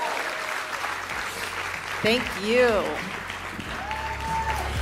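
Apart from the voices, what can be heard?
audience applause for a summit speaker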